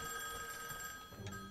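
A rotary telephone rings in the game My Memory of Us, a faint, steady electronic bell tone sustained through the moment with a soft blip near the end, heard alone without talk.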